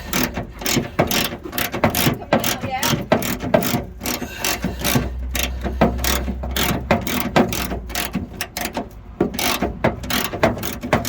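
A ratchet winds a very long bolt thread while a bull bar is fitted to a 1986 Ford Cortina P100 pickup, giving loud, rapid, continuous clicking in steady strokes with brief pauses, close up and without talk.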